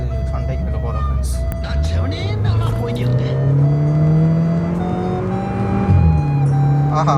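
A stage 1 tuned VW Polo GT TSI with a Borla exhaust accelerates hard, its engine note climbing steadily in pitch and holding loud and close, with a brief gear-change dip near the end while people talk over it.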